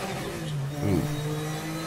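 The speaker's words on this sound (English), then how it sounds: "Killed the engine on that over rev." A Nissan 300ZX Z32 IMSA GTO race car in the Raceroom sim at Sonoma, its engine droning steadily and then surging briefly in an over-rev before settling again.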